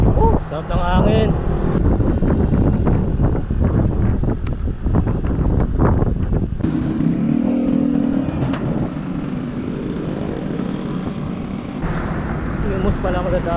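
Steady wind buffeting the microphone while cycling through Cavite on a cool day, a loud continuous low roar with gusts, and someone speaks briefly over it.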